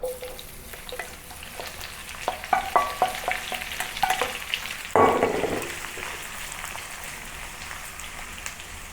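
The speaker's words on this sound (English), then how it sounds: "Saute it for a few minutes until it's really aromatic." Chopped ingredients sauté in neutral oil such as corn or peanut oil, with a soft stirring sizzle and tapping clatter. A sudden louder hiss flares midway, then the sound settles back to a gentle fizz.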